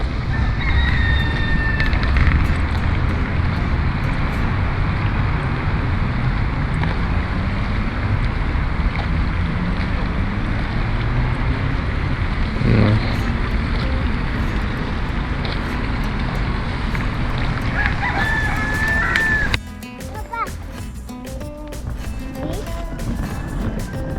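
Several roosters crowing outdoors in Porto, heard among steady wind and boat-like rumble, with a few short calls standing out over the continuous background noise.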